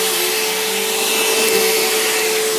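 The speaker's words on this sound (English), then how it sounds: "And the vacuum is stalling me." A household vacuum cleaner runs loud and steady throughout, a constant motor drone with a strong hum and broadband airflow hiss, no pauses and no talk.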